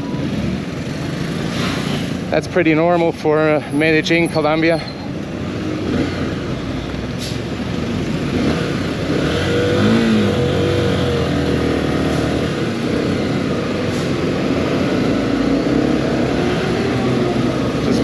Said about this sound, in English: Lots of motorcycles passing left and right.